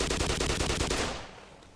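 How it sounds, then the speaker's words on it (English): Rapid automatic gunfire in Black Mesa, a fast even burst of shots aimed at pipes that cuts off after about a second and trails into a short decay. "Obviously I need to shoot one of those pipes again."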